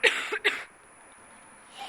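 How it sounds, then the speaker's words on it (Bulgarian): Two quick harsh coughs from a person with a cold, close to the microphone, followed by quiet room tone and a faint breath at the end. "Ще ме извините ако кашлям, но съм настинал"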